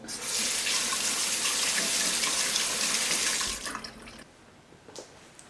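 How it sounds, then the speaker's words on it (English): Steady running water from a tap splashing into a sink and over capers in a sieve for several seconds, then cutting off, followed by a few faint drips and small clatters. "Put your capers in a sieve and give them a quick rinse under some water"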